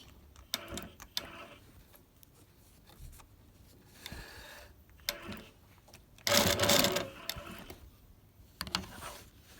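Longarm quilting machine stitching binding onto a quilt, giving bursts of rapid mechanical whirring separated by quiet pauses, with one longer, louder run near the end.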